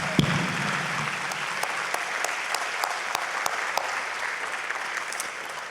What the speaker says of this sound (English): let's give them one last big round of applause